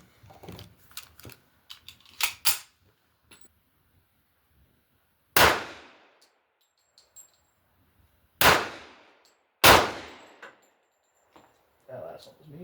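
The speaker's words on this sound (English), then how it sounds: "we're just shooting, I think this is S&B, 230 grain, standard 45 ACP stuff" A 1911 pistol firing 230-grain S&B 45 ACP ball ammunition, with three loud, sharp shots ringing out at a range after a stretch of light clatter and handling noise, and a quieter pop near the end.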